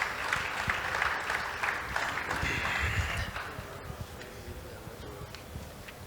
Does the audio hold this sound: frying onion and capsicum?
no